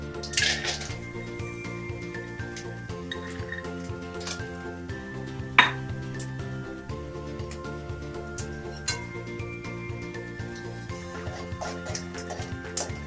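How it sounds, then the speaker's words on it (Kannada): Peanuts frying and being stirred in hot oil in a pan with cumin and mustard seeds, giving steady clinks and scrapes of a utensil against metal with occasional sharper knocks, close and continuous without speech. "ಶೇಂಗಾನ ಸ್ವಲ್ಪ ಫ್ರೈ ಮಾಡಿ"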